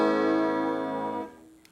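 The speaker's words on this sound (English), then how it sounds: "This is with the flanger." A chord rings out through a flanger effect on a SHARC Audio Module DSP board, a sustained harmonic tone with a sweeping comb-like shimmer that holds for about a second before cutting off into a quiet tail.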